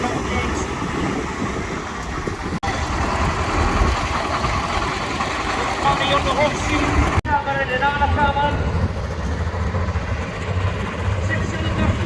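A pulling tractor's six-cylinder turbocharged engine idles at an outdoor tractor pulling event in Brechin, Scotland. The low rumble is steady and continuous, with people talking over it throughout.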